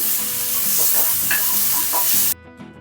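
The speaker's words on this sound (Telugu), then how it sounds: "సో ఇదంతా పచ్చివాసన పోయేంత వరకు వేయించుకున్నాక" Masala with cashew paste fries loudly in a pan, a dense close sizzle with scraping stirs for about two seconds, then cutting off abruptly to near quiet.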